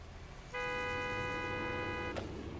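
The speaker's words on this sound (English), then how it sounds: "Everybody's honking." Video game car horn from Gas Station Simulator, a single sustained horn blast lasting about a second and a half, loud and close over a low background rumble, ending with a short click.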